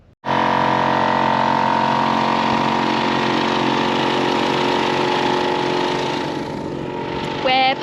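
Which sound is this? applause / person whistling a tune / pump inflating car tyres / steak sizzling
pump inflating car tyres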